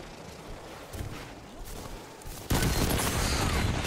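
Sustained auto rifle fire in the multiplayer shooter Destiny 2, starting quieter then jumping to a loud, dense burst of rapid shots near the end.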